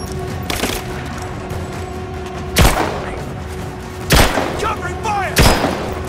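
Gunfire crackles in a Rise of the Tomb Raider battle, with three sharp booming bursts rising over a steady din of game noise and a low hum.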